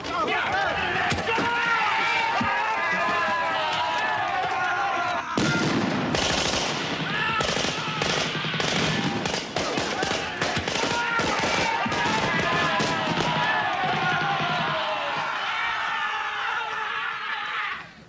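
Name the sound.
anti-aircraft flak fire sound effect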